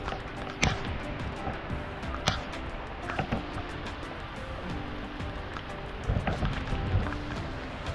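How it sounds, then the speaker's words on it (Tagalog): Heavy rain pours down steadily outdoors on a rough path through grass and rocks, a dense continuous hiss with a few louder thumps and splashes close by. "Lakas na talaga ng ulan."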